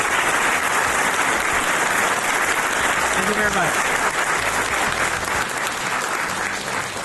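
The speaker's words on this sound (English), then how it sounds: "So if you can give them a round of applause once more." A lecture audience at Gettysburg gives a steady, dense round of applause that fills the room and holds loud throughout, with a man briefly thanking them over the clapping.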